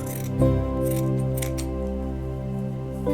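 Scissors snip through a leftover scrap of felt while a plush toy is being sewn, giving a few soft, close cuts over a steady low hum, with no talking.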